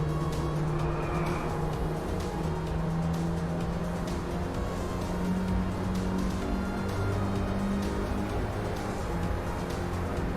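DRIVECLUB racing game car sliding through a drift, a steady engine roar with a long tire skid whine layered on top, loud and continuous for the whole stretch.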